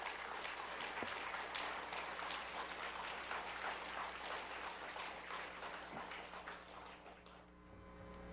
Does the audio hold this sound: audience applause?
yes